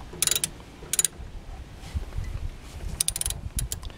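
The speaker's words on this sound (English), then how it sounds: "make sure you set your ratchet for counterclockwise to loosen" Ratchet loosening brake caliper bolts counterclockwise on a car during a pad change, giving short bursts of quick metallic clicks separated by pauses, fairly close over quiet background noise.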